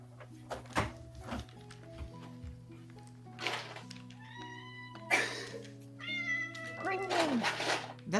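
A cat meows repeatedly in varied, drawn-out calls with a few soft thumps in between, fairly faint and close, with quiet speech-like sounds around it.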